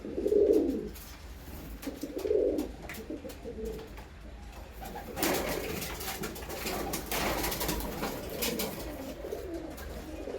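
Giribaz pigeons cooing in a loft, several low throaty coos in the first few seconds, then softer murmurs and rustling, with occasional faint chirps.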